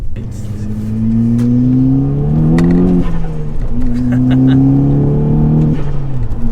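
A VW Golf GTI Edition 30, tuned to 300 bhp with an R Tech Stage 1 remap, revs hard and climbs in pitch, shifts, then accelerates again with a steady loud roar close by.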